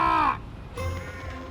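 A crow at Heathrow Airport caws once loud and close, then a quieter hoarse call follows against a background of airfield hum.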